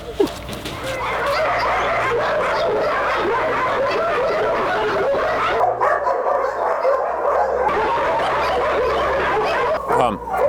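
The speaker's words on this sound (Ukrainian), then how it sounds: "Собаки так гавкають" Many abandoned dogs barking and yelping together in a continuous, frantic chorus near Kyiv during wartime shelling, loud and close, with a low hum underneath.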